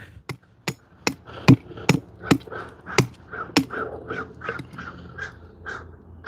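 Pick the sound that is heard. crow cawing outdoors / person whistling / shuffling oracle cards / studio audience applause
crow cawing outdoors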